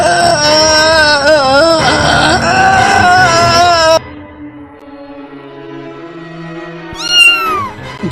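A cat meows in long, loud, wavering cries, close by and drawn out, followed by quieter background sound and a brief rising squeal near the end.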